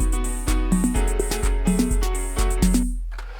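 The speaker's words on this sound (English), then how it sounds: "I put on an audio track here, an extra audio track, a piano" A piano audio track in Cubase plays a short, rhythmic pattern of repeated notes and chords over an acid bassline, moderately loud and even, with no voices.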